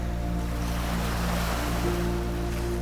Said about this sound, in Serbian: Posmatraj kako se talasti nežno ljube o obalu.